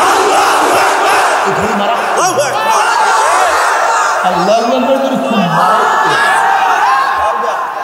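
A large crowd at an Islamic religious sermon gathering roars its chanted response to the Naraye Takbir call, loud sustained massed voices with rising shouts, heard close and continuous.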